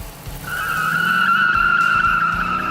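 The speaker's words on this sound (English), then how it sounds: "perfect for burnouts. And burnout they will, thanks to the Hemi under the hood." Tires squeal steadily and loudly as a 2008 Dodge Challenger SRT-8 with its 6.1-liter Hemi pushrod V8 does a burnout, the engine roaring low underneath for the whole stretch.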